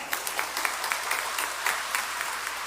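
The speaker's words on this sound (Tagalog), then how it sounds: "pumalakpak nga." A church congregation claps during a Sunday homily, a dense round of hand claps from a moderate crowd with distinct sharp claps punctuating a steady, lively patter.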